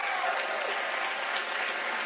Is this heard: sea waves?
no